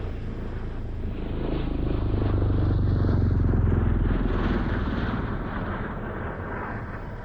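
A United States Air Force CV-22B Osprey tiltrotor aircraft flies past, its deep, steady rotor and engine roar swelling to a peak in the middle and then fading slightly, with no voices.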